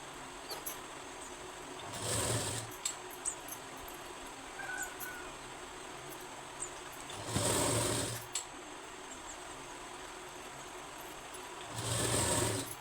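A sewing machine stitches blouse lining with a double line of stitching, running in three loud bursts of about a second each, separated by quieter pauses with faint handling noise.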